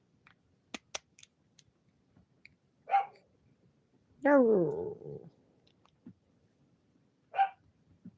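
A dog gives a few short, close bark-like yelps and one longer whining growl, spaced out over near silence, with a person briefly speaking a single word.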